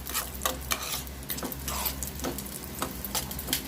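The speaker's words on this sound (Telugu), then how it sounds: "జీడిపప్పు కొంచెం ఎర్రగా వేయించుకొని తర్వాత కిస్మిస్ వేసుకున్నాం" Cashews and raisins frying in a pan of fat while boondi laddu is made, with a steady soft sizzle broken by sharp clicks and scrapes of stirring, close up.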